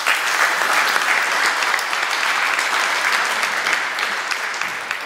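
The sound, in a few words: audience applause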